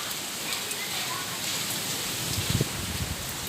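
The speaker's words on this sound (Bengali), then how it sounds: "প্রচন্ড ঝড় বৃষ্টি আজকে," Heavy rain from Cyclone Remal pouring down over Jamalpur town, a dense continuous hiss of drops on surfaces, loud and close, with a brief louder patch near the end.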